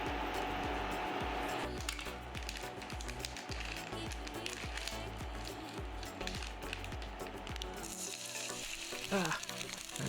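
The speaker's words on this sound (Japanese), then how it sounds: "まずはね、大さじ1杯の、油と、解凍した具材を入れて2分炒めます。" Thawed meal kit ingredients stir-fried in a tablespoon of oil, sizzling loudly and steadily with spitting oil, a rhythmic series of stirring scrapes and clacks running through it from start to finish, no voices.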